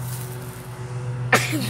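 A single sharp sneeze near the end, loud and close, breaking through a steady outdoor hum while building a survival shelter.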